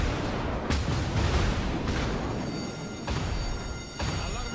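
Secondary battery guns on a battleship in World of Warships boom in a steady series of heavy reports, roughly one per second, over a constant roar of engine and sea noise.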